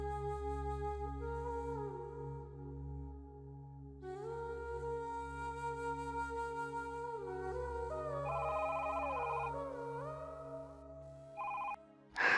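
A telephone rings in a home with a steady electronic tone pattern repeating for several seconds, loud and close, with no one speaking over it.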